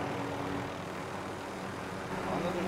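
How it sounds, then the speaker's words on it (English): Helicopter rotor and engine drone from a battle royale shooter in a Twitch Rivals squads match, a steady broadband roar holding at even loudness throughout with no talk over it. "Another chopper in the air"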